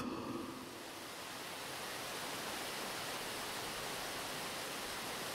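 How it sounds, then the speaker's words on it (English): A waterfall gives a steady broadband rush of falling water, dense and unbroken throughout, with no voices. "The stranger wakes to the sound of a waterfall."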